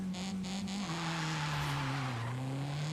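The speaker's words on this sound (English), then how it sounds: "Once we get into the high RPMs, I mean, the car's not fast, but it just sounds so great." A Honda Civic Type R engine revs high in the Forza Horizon 5 racing game, a loud, steady tone climbing and dipping through the RPM range with brief tire squeal early on and no talk.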